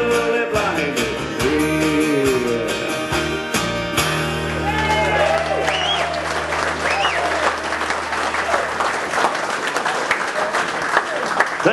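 A comedy show audience applauds loudly and steadily with a few shouts, while music with sustained tones plays in the first half and fades away.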